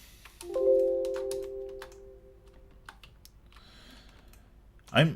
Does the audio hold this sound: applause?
no